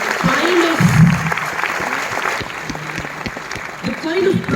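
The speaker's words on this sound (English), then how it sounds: "So I think we all should give a good round of applause." An audience applauds with a steady wash of clapping at moderate volume, while voices murmur and talk briefly over it at the start and end.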